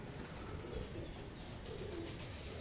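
A pigeon coos softly in low, murmuring calls over faint background noise.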